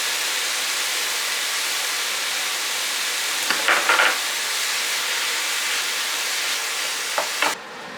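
Ground beef fries in a hot pot on medium-high heat, a loud, steady broadband sizzle with brief scraping stirs in the middle and toward the end, close up and without talk.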